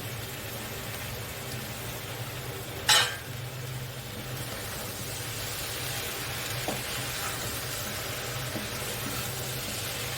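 Pui saak greens with spices frying in a pan, a soft continuous sizzle under a low background hum, with one sharp clink of a utensil near the start.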